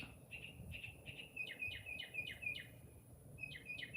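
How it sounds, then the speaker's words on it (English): A loud bird repeatedly calls outdoors, sending out a run of quick, bright chirps in steady bursts. A faint low rumble sits beneath the calls. "I've got a real noisy bird out here somewhere."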